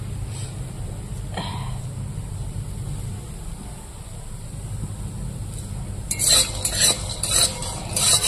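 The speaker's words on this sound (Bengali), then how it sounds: "সর্ষের তেল দিয়ে আমি ডালের বড়াটা ভেজে নিলাম" Lentil fritters frying in mustard oil, a steady low sizzle that runs throughout, with sharper clatter and bursts of stirring toward the end.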